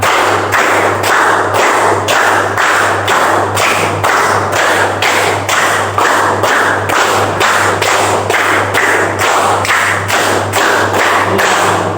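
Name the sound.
class clapping hands in a rhythm pattern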